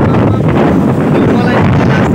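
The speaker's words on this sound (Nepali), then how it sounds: "यहाँ बाहिरको यस्तै हावाहुरी चलेछ" A strong windstorm blows outdoors, a loud unbroken roar buffeting the microphone for the whole stretch.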